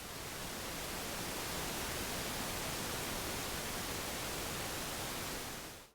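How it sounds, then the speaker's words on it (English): Pink noise from a DIY modular synthesizer noise module gives a dense, even rush that is warmer and darker than white noise, steady throughout and cutting off sharply at the end. "So let's patch the pink noise and take a listen to that."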